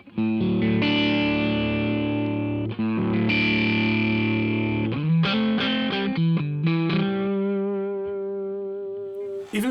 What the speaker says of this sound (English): it kind of feels like an overdriven, like a cranked amp